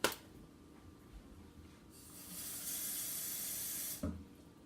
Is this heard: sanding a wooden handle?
no